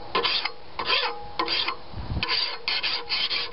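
A hand file rasps across a hardened spring-steel lawnmower blade, sharpening it in repeated short, gritty strokes with brief pauses between them, close and fairly loud.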